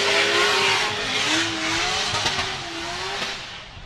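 A drift car slides around the first turn at a Formula Drift 2014 Miami round, engine roaring loud and close as tires squeal, then the sound eases and fades slightly as it passes.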